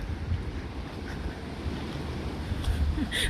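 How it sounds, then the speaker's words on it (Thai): Steady wind blows down from the mountain beside cold water at a tent campsite in Valldal, Norway, a continuous broadband rush with microphone buffeting and a faint wash like surf underneath. "ลมพัดมาจากบนเขานะ ลมพัดมากับน้ำนะคะ"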